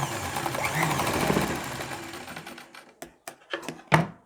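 A sewing machine runs steadily while stitching a kurti neckline strip, then slows into a few short separate bursts at the end, with no voices.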